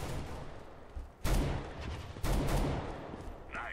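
Gunshots in Counter-Strike: Global Offensive, two sharp loud shots about a second apart over a noisy in-game background, with faint further gunfire.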